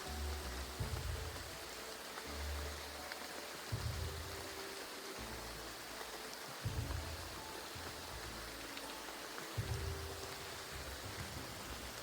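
Continuous rain in the game Graveyard Keeper, a soft, even wash of falling drops heard alone, with faint low rumbles swelling and fading underneath.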